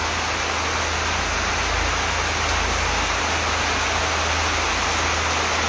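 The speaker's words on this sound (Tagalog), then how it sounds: "Maulan. Kanina pa tong ulan na to, Ate Laza Pepeña." Steady, dense hiss of heavy rain falling continuously in Tacloban during a Signal No. 1 storm, loud and constant with no voices.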